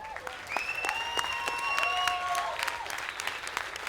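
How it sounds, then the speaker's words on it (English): Loud crowd applause with steady dense clapping, while whistles and whoops ring out over it for a few seconds before it tapers slightly. "give these 4 warriors a huge round of applause."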